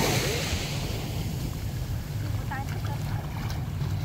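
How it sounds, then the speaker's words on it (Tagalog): Big ocean waves wash and surge around a boat at sea, a constant roaring swell mixed with wind buffeting the microphone, while voices call out faintly. "Natakot siya, lalaki ng alon."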